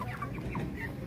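Chickens cluck softly at a poultry stall in a busy market, brief low murmuring clucks half buried in a dense background rumble.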